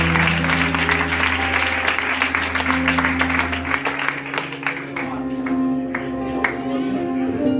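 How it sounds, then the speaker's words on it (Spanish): Sustained applause from an audience at a church book presentation in Villaverde, dense clapping that fills the room, loud and continuous, gradually thinning toward the end. "¿Cuándo le dan un fuerte aplauso para la gloria del Señor?"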